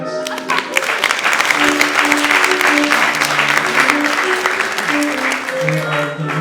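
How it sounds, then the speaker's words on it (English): A theatre audience claps at length at a live comedy show, with the dense clapping steady and loud throughout and voices and some tonal sound mixed underneath. "Can we clap for facts?"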